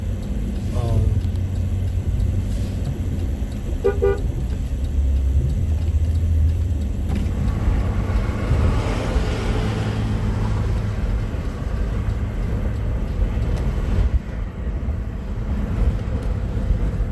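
Car driving through traffic, a steady loud low engine and road rumble running throughout with a few brief mid-range blips near the start.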